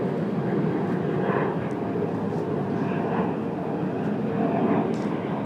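An airliner takes off at Ronald Reagan Washington National Airport (DCA), its steady jet roar filling the scene from a distance and holding even throughout, with faint background chatter.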